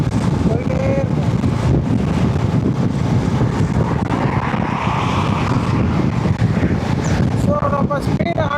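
Strong wind roars against a vehicle driving at about 100 km/h on the road from Melmaruvathur to Villupuram, a loud, constant rushing blast near the microphone with faint tonal whines above it.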